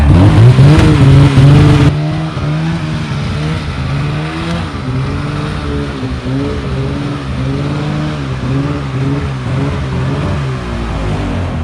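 A snowmobile engine roars loud and close while riding at Rabbit Ears Pass in late May, holding a steady, slightly wavering drone after an initial louder burst.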